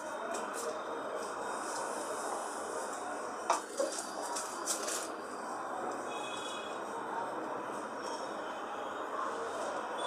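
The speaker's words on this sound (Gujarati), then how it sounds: "હવે આપણે આને વણી કાઢીશું." Farali bhakhri dough being rolled out on an oiled surface with an oiled rolling pin, a steady close rumbling scrape that continues throughout, broken by a few light knocks and clicks.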